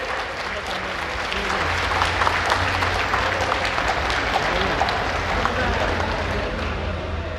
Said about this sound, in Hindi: तो बेशुमार तालियां क्यों नहीं है?